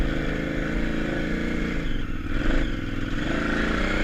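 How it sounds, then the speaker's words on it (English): A motorcycle stuck in deep sand near Moab revs continuously and loudly, the engine droning steadily at close range with a slight dip and surge in pitch, alongside faint clatter. "I need to kick it up a gear and just give it more throttle and it'll work."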